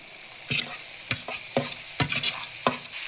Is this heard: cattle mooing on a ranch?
no